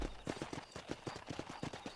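Horse hooves clip-clop in the video game Red Dead Redemption, a quick steady beat of soft thuds close by and faint, with no talk over them.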